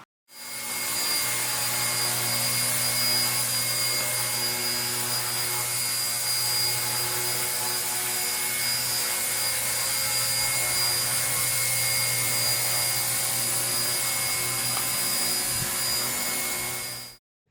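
A small electric rotor of a toy RC ERA C032 UH-1 Huey helicopter whines steadily at a high, constant pitch for a long stretch, starting and stopping abruptly, close and loud with no talking.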